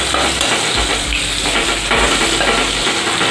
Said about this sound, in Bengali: সবজির মধ্যে এখানে আমি দিয়েছি পেঁয়াজ, সেটাকে আগে একটু ফ্রাই করে নিতে হবে।